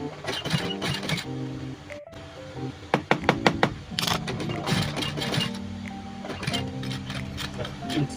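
A sewing machine works through stiff, thick denim jeans being widened at the waist, giving bursts of rapid mechanical stitching, sharp knocks and whirring in uneven spurts, with someone talking over the noise.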